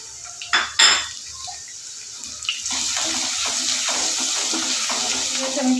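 Chopped garlic and ginger tipped into a pan of oil for fried rice, starting with a few clinks of utensils on the pan, then a loud, steady sizzle that carries on close by.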